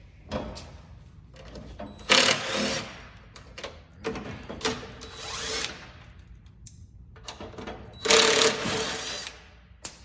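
Impact gun zipping out fuel tank skid plate bolts on a fifth-generation Toyota 4Runner, with two loud sustained bursts and several shorter rattling hits close by in a garage setting.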